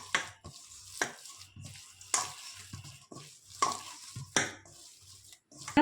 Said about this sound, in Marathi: आणि पूर्ण मिक्स करूया